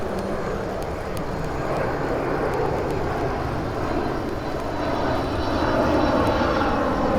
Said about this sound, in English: we got an airplane coming over here